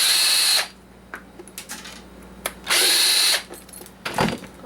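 A power drill whirs loudly and close in two short bursts while removing screws from an Oster coffee maker, with clicks and small handling knocks between the runs.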